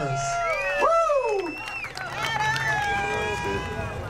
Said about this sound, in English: Big round of applause for Adam and the Warhorse.